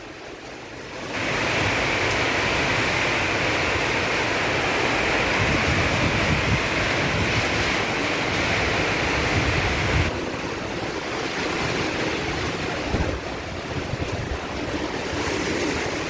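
Heavy rain and strong wind lash the streets around Jatinegara on a Saturday afternoon, a loud, dense roar that rises abruptly and holds steady with gusty swells.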